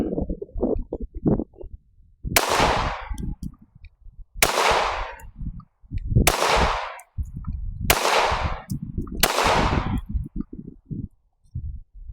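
Five sharp pistol shots from a Glock 43X MOS compact pistol crack out at steady intervals during a recoil test. Each report is loud and close with a short decaying ring, with rustling and handling noise between the shots.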